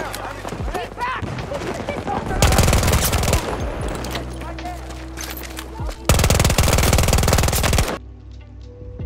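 K30 submachine gun fire in Battlefield 2042, in rapid automatic bursts, two of them long and sustained, with heavy shot impacts and game sounds around them while a voice talks over the action.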